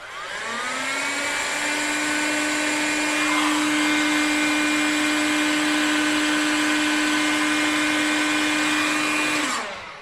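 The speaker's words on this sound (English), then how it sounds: "now we can heat shrink" A heat gun shrinks heat-shrink tubing on the wiring of a Mk3 Ford Cortina, blowing a loud, steady whirring hum with a sustained tone that starts and stops cleanly, with no talking.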